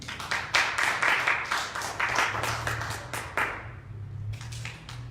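A church congregation applauds, many hands clapping in a dense, rhythmic burst that thins and fades over several seconds, with faint murmuring underneath.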